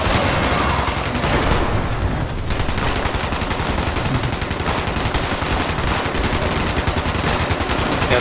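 Sustained automatic gunfire in Fallout 76, rapid loud bursts running almost continuously for eight seconds, close and dense like a machine gun firing without pause.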